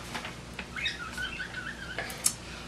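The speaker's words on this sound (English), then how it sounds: "I have 3 birds, which unfortunately you are going to be hearing for most of this video" Faint, scattered chirps and short tweets from three pet birds over a steady low hum, with a few brighter calls standing out near the end.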